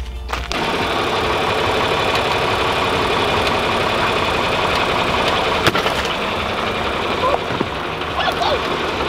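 A tractor engine runs steadily nearby with a rough, rumbling idle, while a few faint knocks and clanks sound over it.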